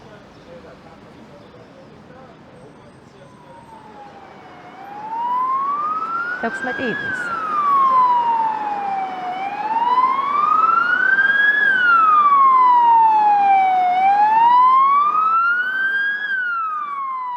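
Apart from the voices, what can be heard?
fire alarm system in a courthouse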